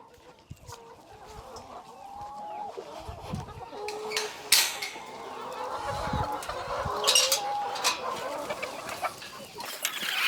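A flock of roughly 380 chickens clucks and squawks inside a coop, a busy overlapping chorus of near and distant calls with occasional sharper cackles.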